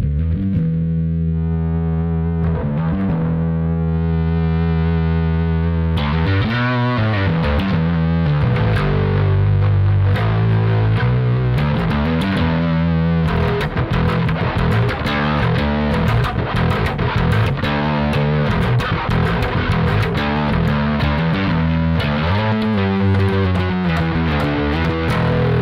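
A bass guitar played through an Aguilar distortion pedal, its gritty, saturated tone keeping a full low end. Sustained notes give way to a steady riff, loud and alone without talk.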